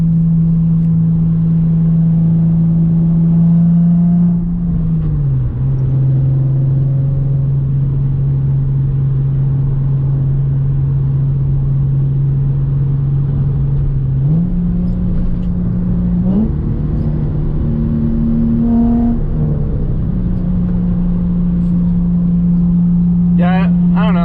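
A Nissan 350Z with a newly fitted exhaust idles with a loud, deep, steady drone, rising into short revs at moments before settling back, close to the listener.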